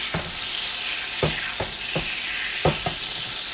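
Steak frying in a pan while being basted with butter makes a steady sizzle, broken by several sharp spoon or pan knocks spaced through the stretch, close and moderately loud, with no talk.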